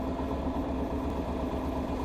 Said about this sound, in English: It's actually idling really good now.